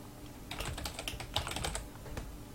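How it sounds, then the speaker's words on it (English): Rapid clicking keystrokes on a computer keyboard, typed in irregular bursts close to the mic with a steady low background hum underneath. "you can hear me type."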